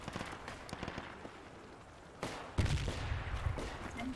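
Gunfire in Battlefield 2 Project Reality on the Bijar Canyons map, a quiet stretch of faint scattered shots breaking into louder, denser bursts with low rumble near the end.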